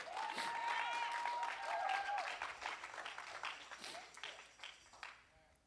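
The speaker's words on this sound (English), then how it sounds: "give him a hand clap of praise." A church congregation at a Sunday worship service gives a hand clap of praise, full clapping at first mixed with voices and a few cheers, then thinning to scattered claps and fading out.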